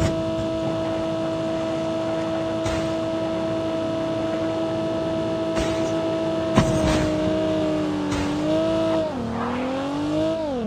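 An enemy vehicle engine in the Call of Duty Mobile video game, a loud, steady droning hum that holds its pitch, then bends and wavers near the end as the vehicle shifts speed, with occasional sharp knocks.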